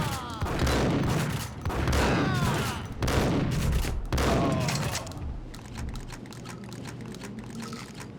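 Heavy gunfire from Max Payne, the PC game, with loud bursts repeating at steady intervals for about five seconds, then trailing into quieter scattered shots.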